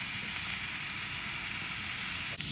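Limpets steam inside their own shells over a camp grill on the coast, a steady, loud hiss and sizzle that runs unbroken throughout with a faint crackle near the end.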